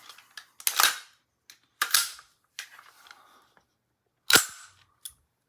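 Metallic clacks and snaps of an AR-15 airsoft gas blowback rifle bolt dropping, several sharp slams spaced apart with smaller rattles between, close and alone without talking.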